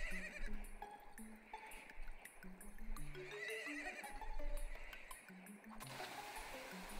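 A horse in the video game Crown Academy whinnies in a long, wavering call that rises and falls in pitch, fairly loud and near, with soft game ambience beneath it.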